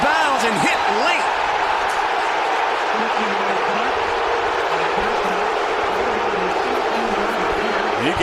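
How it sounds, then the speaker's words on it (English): A college football stadium crowd reacts to a late hit on a Nebraska Cornhuskers versus Michigan State Spartans game, a steady, dense roar of many voices filling the whole stretch, with faint commentator talk underneath. "You can hear the crowd's reaction to that hit."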